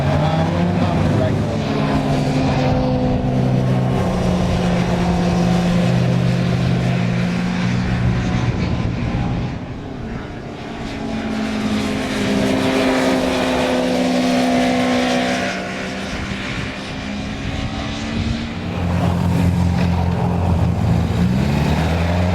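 A motorbike laps the Silverstone race track, its engine loud and close throughout, climbing and falling in pitch through gear changes, with a brief dip in volume around the middle.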